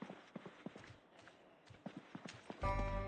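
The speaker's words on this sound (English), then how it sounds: "I still hear footsteps" Zombie footsteps in Project Zomboid, a run of soft irregular steps shuffling at mid distance, ending in a sudden louder tonal burst of game sound.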